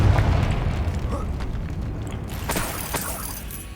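In the Hogwarts Legacy video game, the Confringo spell explodes in a deep, rumbling boom that fades slowly, followed by lighter crackling debris, loud and close, with a voice heard faintly in the mix.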